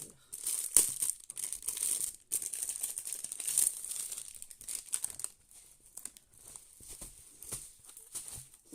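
Crinkly plastic packaging from a Shein order being torn and opened by hand, with scattered crackles and rustles in bursts that are loud at first and then quieter.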